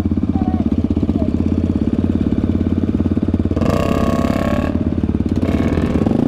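A Honda CRF dirt bike engine runs steadily nearby on a forest trail, a loud throbbing idle with rhythmic pulses, joined midway by a brief surge of broadband rustling noise.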